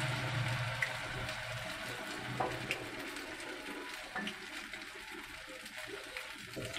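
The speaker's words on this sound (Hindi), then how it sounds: "अब ये दूसरी तरफ से फ्राई हो रहा है।" Samosa pinwheels dipped in maida batter deep-frying in hot oil over a medium flame, giving a steady close bubbling sizzle with scattered pops and no talking.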